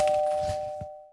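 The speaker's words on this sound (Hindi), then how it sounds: "डोरबेल कंटिन्यूअसली बज रही थी" A doorbell rings once, a clear sustained electronic ding with a steady tone that fades out over about a second, close and alone.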